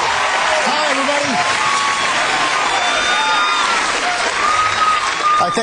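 Studio audience of an improv comedy show applauding and whooping loudly and steadily, a dense continuous roar of clapping with cheers and whistles on top, with no one speaking over it.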